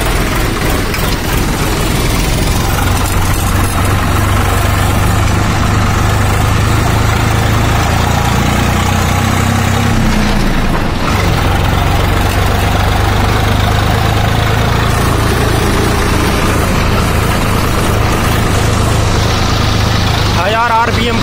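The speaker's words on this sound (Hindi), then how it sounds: "RPM पर चल रहा है ट्रैक्टर अभी" Swaraj 744 XT tractor hauling a loaded trolley of wet manure: a steady low engine drone running throughout, fairly close, with a brief dip near the middle.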